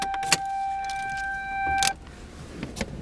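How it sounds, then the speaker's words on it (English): A quiet electric motor whines for about a second and a half as a 1992 Toyota Celica GT's pop-up headlamps retract, bracketed by soft clicks and clunks. "So you can see those pop-up headlamps go back in."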